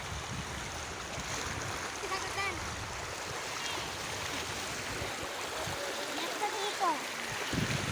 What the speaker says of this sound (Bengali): এই যে দেখেন কি স্রোত পানি